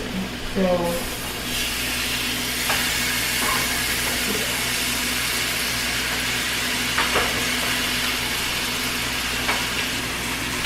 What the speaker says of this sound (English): the steak is cooking, the broccoli is cooking, and the rice is on its way